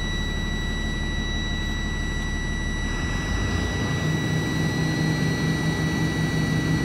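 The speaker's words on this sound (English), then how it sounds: "I will show you when my governor cut out by accelerating until my needle stop rising" A truck engine revs up during an air brake test until the air governor cuts out, a loud steady roar with high whining tones, the low rumble shifting partway through.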